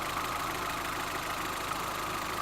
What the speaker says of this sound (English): This engine is going to go into a Caterpillar forklift truck